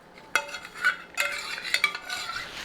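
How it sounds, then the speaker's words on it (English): A spoon stirring vanilla extract into caramel icing for a black walnut caramel cake, with a few sharp scraping clinks against the bowl followed by softer irregular stirring scrapes, close and fairly quiet. "we're going to add a teaspoon of vanilla extract. We'll stir that up real good."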